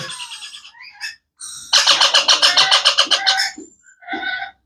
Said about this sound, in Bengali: দেখেন কত সুন্দর কিউট একটা অ্যালবিনো রিংমেক সাদা টিয়া পাখি